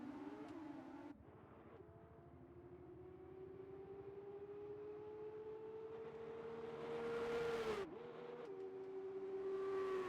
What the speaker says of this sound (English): The formation lap gets underway for this, the Formula 2 race